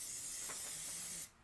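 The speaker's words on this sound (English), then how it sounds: "I'm spraying it pretty well because I want it to stay down." An aerosol spray can hisses steadily onto fabric laid wrong side down before hooping for machine embroidery, a loud continuous spray lasting over a second before cutting off abruptly.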